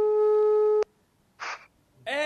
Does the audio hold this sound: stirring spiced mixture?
no